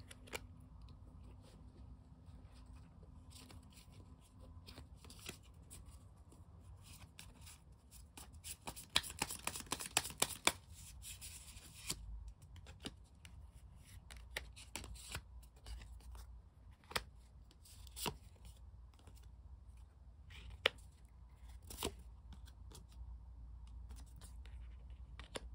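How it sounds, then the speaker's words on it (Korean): Tarot cards are shuffled and drawn at close range and at low volume, with soft scratchy slides, light taps and a short flurry of riffling partway through. "이 1년의 후 모습을 어떤 과정으로 이렇게 이뤄낼지 한번 카드를 추가로 뽑아볼게요."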